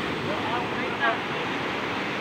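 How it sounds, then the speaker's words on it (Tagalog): Sea waves give a steady, moderately loud rushing wash of surf without a break, with a faint voice briefly audible. "Kahit sa yan, may alon."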